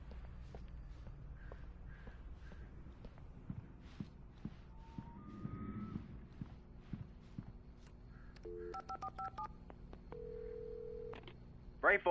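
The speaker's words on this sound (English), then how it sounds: "I had to get inside the gas station to find a phone to call for help." Telephone dialing inside a gas station in the video game Alan Wake: soft footsteps, then a series of short button tones and a sustained tone, faint and close, with no voices.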